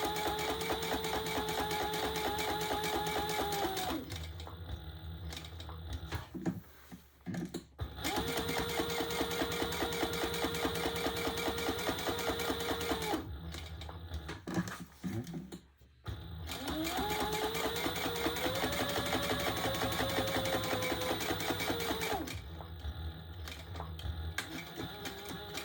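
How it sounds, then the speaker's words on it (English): A sewing machine stitches a pocket onto an unlined all-leather tote, running in long steady bursts of rapid mechanical chatter that are broken by short pauses, with no talking. "So I'm just going to sew this pocket on."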